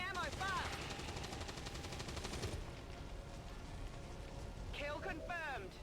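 Rapid bursts of automatic weapon fire in XCOM 2, loud and dense with chirping in-game effects at the start and end, over a steady rumbling game soundtrack.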